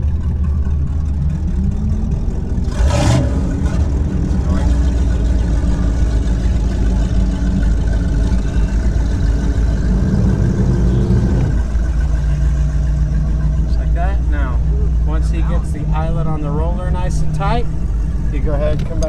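A 2004 Tahoe Q4 sport fish and ski boat's engine drones loudly on open water, pitch rising and falling as the throttle changes, while someone talks over it throughout.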